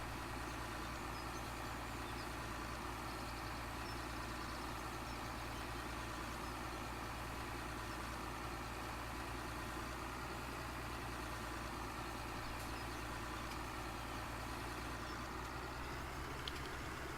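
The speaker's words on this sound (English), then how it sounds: "it sounds like a real diesel engine in a tractor" A tractor's diesel engine idles in Farming Simulator 17, a deep, steady, continuous rumble that holds unchanged throughout with no voices.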